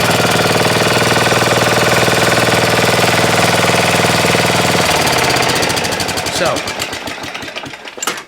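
A secondhand riding lawn mower, bought from a lawn care company, runs steadily with a dense, even engine drone that loosens into a rougher, uneven rattle toward the end, with no talking over it.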